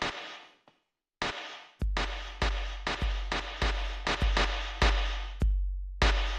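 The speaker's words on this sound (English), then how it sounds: "yeah, you got some real like Ruby generated snare drums there" Synthesized snare-drum hits built from filtered noise generated in Ruby code, a rapid, irregular run of sharp broadband bursts with low thumps, each cut off abruptly, played loud and alone.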